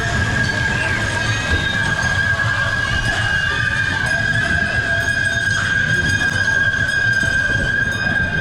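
The Shark Tank train ride at Houston's Downtown Aquarium rumbles along continuously, with a steady metallic whine riding over the low roll of the cars and faint squeals now and then.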